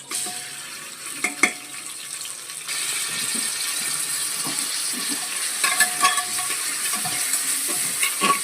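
Onion with curry leaves sautéing in oil in a pan for chicken curry, a continuous sizzle that thickens partway through, broken by spoon knocks and stirring scrapes against the pan, no speech.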